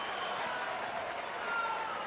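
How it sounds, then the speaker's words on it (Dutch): A dense darts crowd at the 2022 World Matchplay in Round 1, Gary Anderson against Daryl Gurney, roars steadily, with cheering and booing merged into one continuous wash of noise. "boe roepen en juichen."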